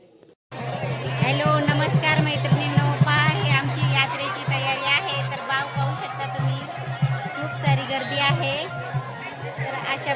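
A dense crowd murmurs at a village fair, many overlapping voices chattering continuously over a steady low hum, loud and close throughout.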